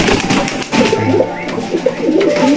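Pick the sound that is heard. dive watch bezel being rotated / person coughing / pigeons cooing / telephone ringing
pigeons cooing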